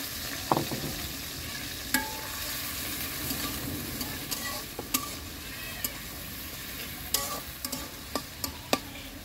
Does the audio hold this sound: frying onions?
yes